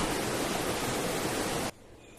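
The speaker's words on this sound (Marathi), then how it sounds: "आमच्या घराशेजारी वाहाळ वाहतोय आणि व्हाळाला पण पाणी आलंय" A stream swollen with water rushes beside a house as a loud, dense, steady wash. It cuts off abruptly near the end, leaving quiet.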